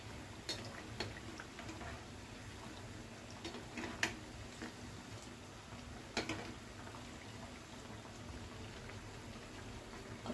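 Chicken keema vadas frying in hot oil, a soft, steady crackle and fizz with occasional sharper pops, close and fairly quiet, with no talking.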